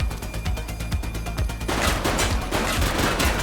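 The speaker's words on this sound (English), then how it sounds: "Shots fired!" Sharp gunshots from the police video game The Precinct snap out in a quick, loud series, then give way to a rough wash of noise.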